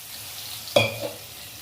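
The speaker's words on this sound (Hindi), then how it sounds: "और अच्छे से मसाले को भून लेते हैं।" A soft background sizzle with one sudden sharp crackle and hiss as spices hit hot oil in a pan, close by.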